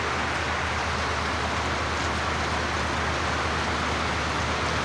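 Steady rain falls during a pause in unloading timber from a truck, a dense even hiss of drops on surfaces that holds at a constant level from start to finish.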